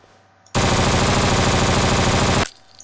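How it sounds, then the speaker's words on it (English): A burst of full automatic gunfire in the zombie shooter No More Room In Hell rattles out in a rapid, unbroken stream for about two seconds, very loud and close, then stops abruptly into quiet. "and there is full automatic fire"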